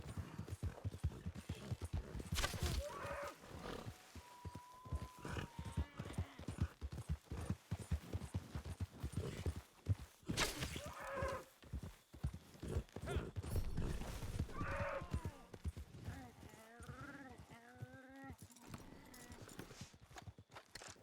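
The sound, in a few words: horse galloping while hunting on horseback, video game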